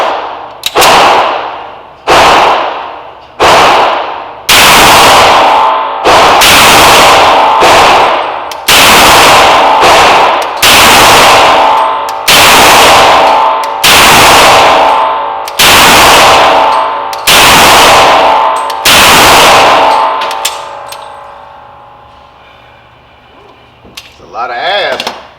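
Loud, close pistol shots at an outdoor shooting range, about a dozen sharp reports in an uneven series with brief gaps, each ringing out before the next, then quieter handling noise at the end.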